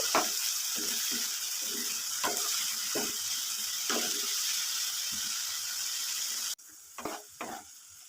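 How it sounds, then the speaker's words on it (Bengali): Vegetables sizzle in hot oil with spices for a samosa filling, a steady close frying hiss broken by repeated scraping stir strokes, and the sizzle drops away near the end as the stirring continues. "মশলার সাথে সবজিটা ভালো করে কষিয়ে নিচ্ছি।"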